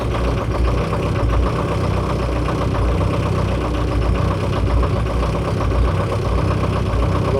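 A homemade snow removal machine's engine idles steadily with a deep, even rumble and constant vibration, running alone without talk.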